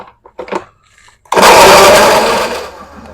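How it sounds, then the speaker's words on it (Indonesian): After a few soft clicks and taps, a blender grinding chili paste with ginger and garlic roars to life, grinding loudly and steadily for a couple of seconds before starting to ease off. "Ini Bunda blender juga teman-teman."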